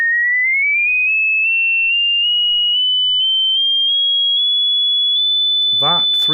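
Pure sine test tone gliding smoothly and steadily upward in pitch over several seconds, then holding a high whistle-like note, clean and alone until a voice briefly starts speaking at the end.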